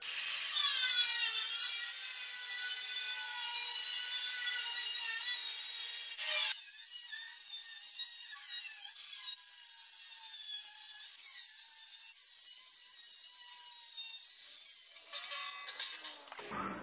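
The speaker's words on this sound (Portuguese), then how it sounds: "a gente vai utilizar uma serra mármore" A marble saw cuts through metal sheet while building a wood-fired oven, a continuous high, piercing whine with a grinding edge. It holds for about sixteen seconds, shifts pitch partway through, then cuts off abruptly at the end.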